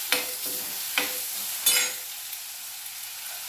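Tomatoes fry in a hot pan with a steady sizzle, while three sharp scraping strokes of a stirring spoon ring out close by before the frying settles into a softer hiss.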